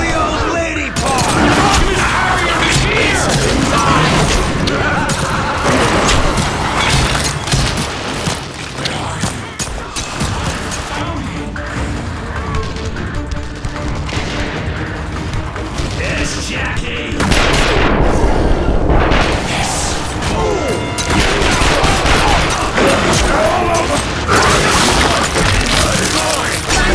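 Loud, continuous gunfire and explosions in The Darkness 2, dense overlapping shots and booms with mechanical clanks filling the whole stretch, with game sounds throughout.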